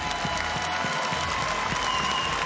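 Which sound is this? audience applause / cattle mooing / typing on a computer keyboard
audience applause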